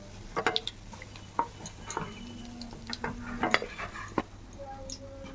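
Fried soya chunks being lifted one by one out of hot oil, with scattered close clinks and scrapes of a utensil against the pan over a low background hum.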